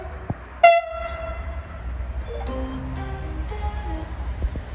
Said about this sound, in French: Voie 2, attention au passage d'un train.